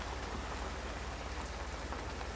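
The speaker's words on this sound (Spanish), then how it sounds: "Está lloviendo." Steady rain falling outdoors, a dense, even hiss of drops on surfaces filling the whole stretch at a constant moderate level, with no voices.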